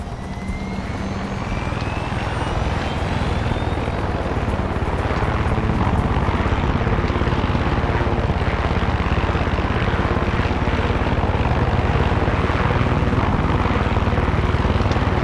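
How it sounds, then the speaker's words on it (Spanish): A helicopter approaching in the video game Far Cry 6, its loud rotor chop and engine roar building steadily and filling the whole stretch without voices. "Vamos, viene un helicóptero."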